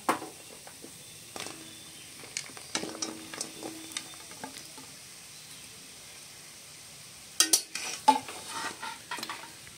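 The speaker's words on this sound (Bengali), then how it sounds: "এবারে বন্ধুরা আমি তেঁতুলগুলো দিয়ে দেবো।" Tamarind fries in oil with panch phoron for a pickle, as a spoon stirs and scrapes the pan in irregular bursts over a faint, steady sizzle.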